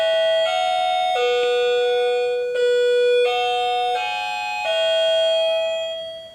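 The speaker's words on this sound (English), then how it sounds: "sorry for the doorbell." An electronic doorbell chime plays a loud, clear melody of several sustained tones stepping up and down, then fades out.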